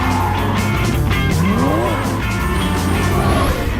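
A car performs a J-turn, engine roaring close and loud as tires squeal and skid in a rising, sweeping screech, with no talk over it.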